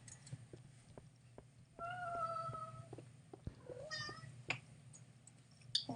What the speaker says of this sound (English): Poor cat only wants love and attention.